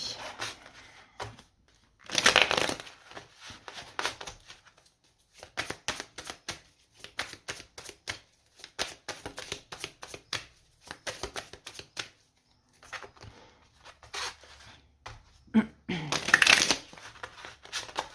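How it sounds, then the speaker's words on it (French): Tarot cards are shuffled and dealt out in repeated quick riffles and flicks, close and crisp, with short pauses and louder bursts of snapping cards, while a voice speaks quietly at times. "Allez c'est parti, on va poser les 9 cartes du tarot."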